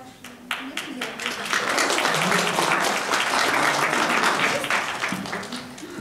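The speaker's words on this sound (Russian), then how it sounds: "мы все равно видим и хлопаем" An audience at a regional NGO forum in Murmansk breaks into applause that swells to a full, steady clapping, then tapers off, with a voice speaking over the start and end.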